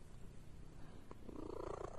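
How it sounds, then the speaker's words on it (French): A cat purring close to the microphone, a soft low rhythmic rumble that grows slightly louder toward the end of a short, quiet stretch with no talking. "écoutez son ronronnement"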